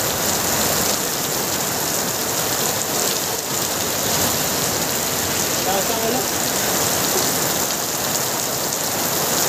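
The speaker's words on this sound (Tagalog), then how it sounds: "Ang lakas ang ulan, mga Alvin." Heavy rain pours down steadily in a sudden downpour, a dense, loud hiss of water on surfaces that continues without break throughout, with faint voices now and then beneath it.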